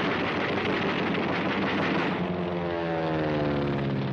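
A captured Japanese Zero fighter plane flies past, its propeller engine roaring loudly and continuously, the pitch sliding downward as it passes close by.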